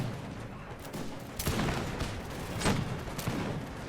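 Dense rolling musket volleys crackle through an American Revolution battle in a strategy video game, a steady wash of overlapping shots with a few louder bursts standing out, no voices.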